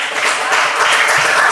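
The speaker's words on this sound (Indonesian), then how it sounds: "Kita berikan tepuk tangan." A classroom group of students breaks into a burst of steady, dense hand clapping after a group presentation, loud and close throughout.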